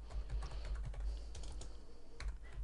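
Typing on a computer keyboard while writing a user-defined function in the Excel VBA editor, a steady run of close, quick key clicks with brief pauses and no talk.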